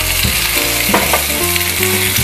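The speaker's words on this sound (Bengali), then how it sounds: "দেখুন খুব সুন্দর ভাজা হচ্ছে" Paneer tikka fries on a hot tawa, restaurant style, giving a loud, steady, close sizzle with soft stirring sounds and no talking.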